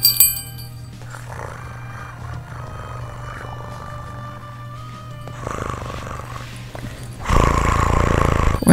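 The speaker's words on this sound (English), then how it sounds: "Well, that's a pretty loud purr." A cat purrs loudly, a steady low rumbling drone that runs through the whole stretch before a louder, rougher burst of noise swells near the end.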